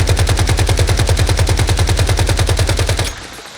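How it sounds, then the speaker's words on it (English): Full magazine emptied on automatic into a training dummy in the Once Human video game: a loud, rapid, even burst of about thirty shots that stops abruptly, leaving a brief fading tail. "I get a full mag and I unload on the dummy"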